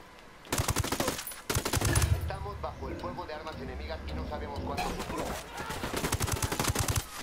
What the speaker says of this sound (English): Estamos bajo el fuego de armas enemigas